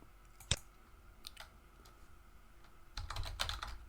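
Keys tapped on a computer keyboard while entering a network address range, a sparse few clicks early on followed by a denser burst of typing near the end, close and fairly quiet with no voices.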